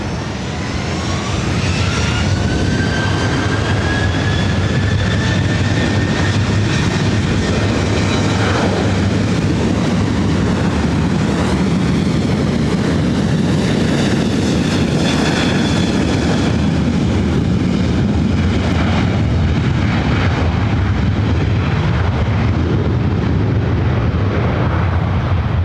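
Airbus A350 engines at LAX roar loudly and continuously for the whole stretch, a broad thunderous rumble with a rising whine on top, heard alone without voices.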